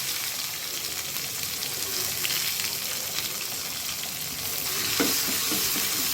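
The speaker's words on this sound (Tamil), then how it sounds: "கொஞ்சம் வந்து கடுகு, இது நல்லா பொரியட்டும்." Mustard seeds, a dried chili, curry leaves and chopped onion fry in hot oil, giving a loud, steady, dense sizzle with fine crackling throughout and no voices.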